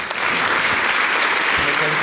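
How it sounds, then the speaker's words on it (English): An audience at an academic teaching and learning conference breaks into warm, steady applause, dense clapping filling the room without a break. "with a round of applause"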